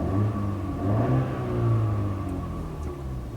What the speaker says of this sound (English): So I'll give it a rev and you'll see it move.